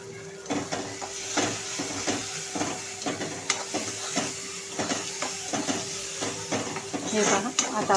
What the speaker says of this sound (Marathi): आता हे छान असं आपण परतून घ्यायचं आहे।